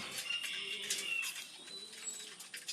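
Domestic racing pigeons being fed outdoors in hot weather after a release in Tuguegarao, soft cooing and bird calls drifting steadily under a constant hiss of ambient noise, no talking.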